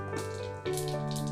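Fennel seeds frying in hot sesame oil for an egg thokku tempering: a steady sizzle that grows louder and denser partway through, close and continuous, with no talking.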